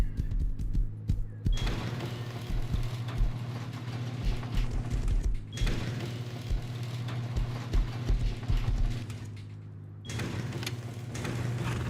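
Horse hooves pound along continuously in the survival game Rust, a dense clatter of galloping steps with a low rumble underneath and short breaks where the ride pauses.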